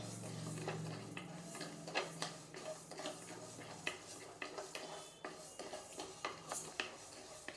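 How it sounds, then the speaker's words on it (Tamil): Raw rice being dry roasted in a pan for a chili spice powder, faint irregular scraping and clinking of a utensil stirring the grains, quiet and close with no talking. "அரிசி கொஞ்சம் நல்லாவே வறுபட்டு வரலாம்."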